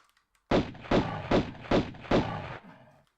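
Gunfire in the Tomb Raider video game, set in caves: five evenly spaced, heavy, muffled shots in quick succession, followed by a brief fading tail.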